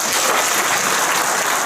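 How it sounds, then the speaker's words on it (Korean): Sustained audience applause at a coaching seminar for sports instructors, steady dense clapping throughout, fairly loud and with no speech over it. "다시 한번 큰 박수 부탁드립니다"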